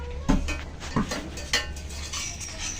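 A cooking pot of taro (kochu mukhi) curry being lifted off a kitchen stove, with three distinct metallic clanks and scrapes spaced about half a second apart, close and fairly loud over a low steady hum.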